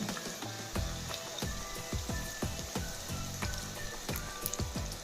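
Onion pakoda batter fries in hot oil, a dense crackling sizzle close up with many sharp pops in quick, irregular succession, steady and loud throughout with no talking.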